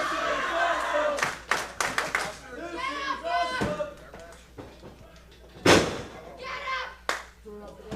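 A wrestling crowd at an indie show claps and cheers in bursts, with sharp slams and claps standing out while a commentator talks over the noise throughout.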